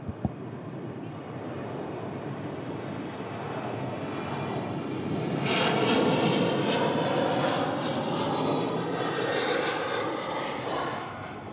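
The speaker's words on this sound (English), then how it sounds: "Aer Lingus 330 on the roll." An Aer Lingus Airbus A330 roars down the runway on its takeoff roll and climbs away, a broad, loud jet rumble that swells toward the middle and holds steady without any voices.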